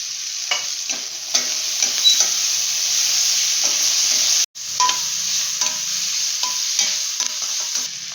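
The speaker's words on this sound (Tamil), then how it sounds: "ஒரு நிமிஷம் இந்த மாதிரி நல்லா வதக்கி விடுங்க" Tomato, ginger-garlic paste and potato sautéing for poori masala, a steady close sizzle with a ladle scraping and stirring in short strokes, one brief cut to silence midway.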